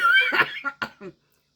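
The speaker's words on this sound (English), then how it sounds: "Unfortunately, there's going to be a lot of coughing." A short burst of coughing from one person, a few rough hacks in quick succession, close and fairly loud, then silence.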